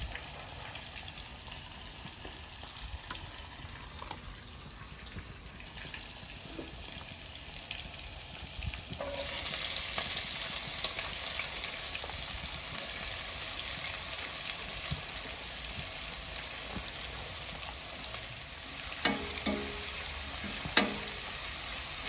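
Food frying and being stirred in Dalda fat, a soft sizzle that jumps to a loud, rain-like hiss partway through, with occasional spoon scrapes and knocks near the end, close and without speech.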